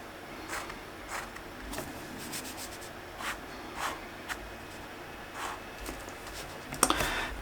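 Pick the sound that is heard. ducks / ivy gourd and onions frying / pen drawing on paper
pen drawing on paper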